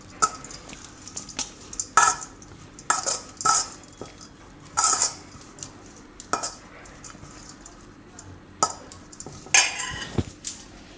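A spoon scrapes and clinks against a bowl while cheese and cabbage sandwich stuffing gets mixed, sharp irregular knocks in short bursts with quiet gaps between them.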